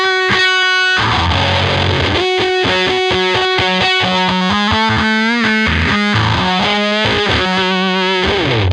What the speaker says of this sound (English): And finally over at D, which is a Big Muff, is like this.